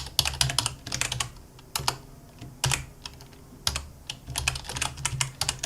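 Code being typed on a computer keyboard for an HTML, CSS and JavaScript popup message box, close and clear, with fast bursts of keystrokes broken by short pauses and occasional heavier key hits, no talk.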